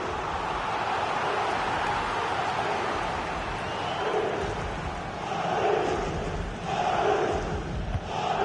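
A stadium crowd in a football manager video game roars and chants steadily throughout, a dense loud wall of voices swelling near the end.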